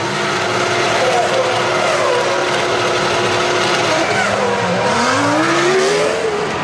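Formula 1 cars from the 2007 season scream past at high revs, loud and continuous, with engine pitch rising and falling as they race, and a voice talking over the din.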